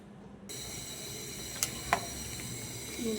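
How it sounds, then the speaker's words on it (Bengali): Chicken with masala spices sits in a pan, giving off a soft, steady sizzle and hiss close by, broken by a couple of sharp clicks or taps partway through, with no talking over it. "মুরগের মশলা দিয়ে বসায় দিলাম।"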